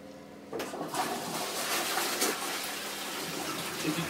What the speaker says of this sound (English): Just give us a flush.